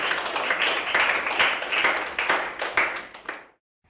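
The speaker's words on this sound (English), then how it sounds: "give yourselves a big clap" Year 6 pupils clap together in a classroom at close range, a steady burst of many hands that fades out and stops just before the end.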